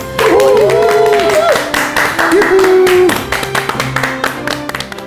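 A studio audience claps to welcome a family-medicine doctor onto a talk show, steady close clapping under a swelling musical sting that fades out, leaving scattered claps at the end.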